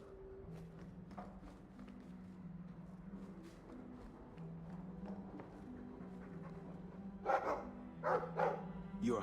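A Mabari war hound from Dragon Age II barks in short, moderately close bursts, mostly toward the end, over a soft, steady musical drone and light footsteps.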